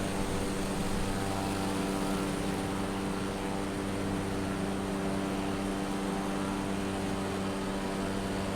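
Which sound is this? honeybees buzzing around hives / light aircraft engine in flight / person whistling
light aircraft engine in flight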